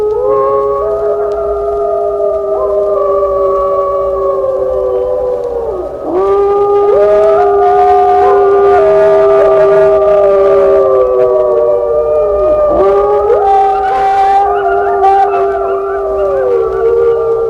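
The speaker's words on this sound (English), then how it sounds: "One after another wolf joins in, and the chorus swells, then dwindles, often to some short barks." A pack of wolves howls in chorus, long sustained overlapping howls rising and falling in pitch, several voices joining and layering loudly and close, with brief dips before the chorus swells again.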